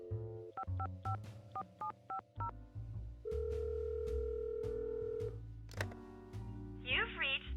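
In the Nancy Drew game Lights, Camera, Curses!, a phone number is punched into a telephone keypad: a quick run of crisp electronic dial beeps, then longer tones and a warbling ringback. The sounds are clear and close.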